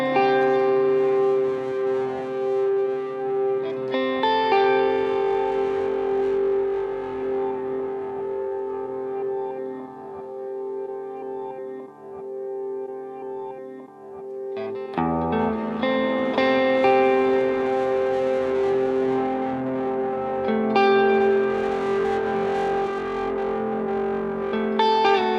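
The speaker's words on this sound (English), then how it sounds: "Cook some nice distortion into the reverb" Electric guitar played through a BOSS GT1000 with distortion and reverb, sustained chords ringing with long washy tails, pausing briefly mid-way then swelling back in loud and dense, no voices.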